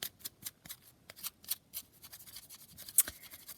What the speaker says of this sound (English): try and ruffle the edges a little bit with the scissors